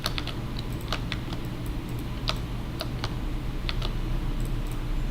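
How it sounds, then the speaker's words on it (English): Fast typing on a computer keyboard as a link is entered, steady light key clicks in quick irregular bursts over a low background hum, close and fairly quiet with no talking. "I think I can type the link pretty fast."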